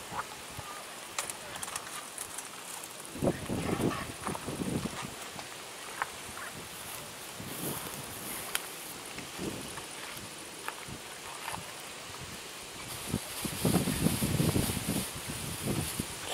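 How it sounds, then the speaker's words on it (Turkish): Gusty wind buffets the microphone in rushing bursts, with a steady hiss of reeds behind and no talking. "rüzgar çıktı"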